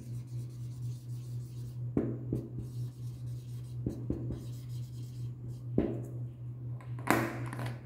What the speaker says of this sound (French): j'écris en même temps que vous, vous ne regardez pas